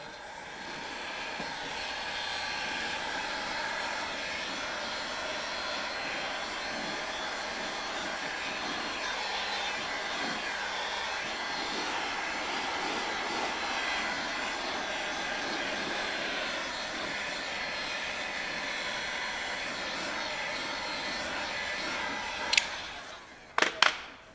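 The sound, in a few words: heat gun blowing over headlight tint film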